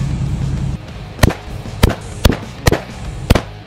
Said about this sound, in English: we're gonna get a couple shots at 100, 200, and just make sure we're on